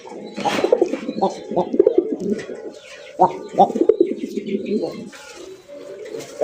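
Pigeons coo nearby in rhythmic, throaty bursts, several calls overlapping with brief pauses, while a person talks quietly in the background.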